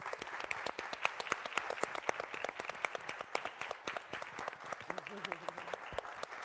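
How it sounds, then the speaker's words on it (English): Indoor audience applause at an Afro-Latino cultural event, crisp individual claps forming a brisk, sustained round that stays fairly quiet and distant, with a faint voice near the end. "please give her a round of applause"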